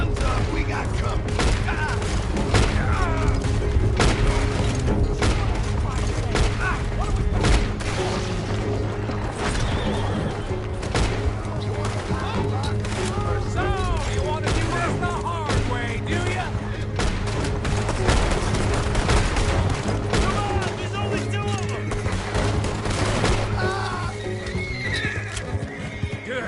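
Gunfire crackles in bursts during a coach robbery in Red Dead Redemption 2, mixed with loud neighing horses and clip-clopping hooves, with voices shouting over the chaos.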